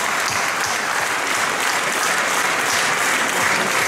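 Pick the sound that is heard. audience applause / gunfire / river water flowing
audience applause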